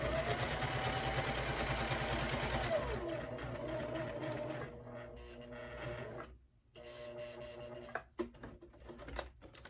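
Sewing machine stitching fabric, a fast steady mechanical whir and clatter close by that runs continuously, then slows and stops with brief pauses and a few sharp clicks near the end.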